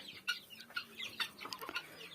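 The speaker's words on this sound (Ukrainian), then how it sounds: "будемо дивитись мої гусики, індики" Geese and turkeys in a barn give repeated close clucking and chattering calls in irregular bursts, with no talking over them.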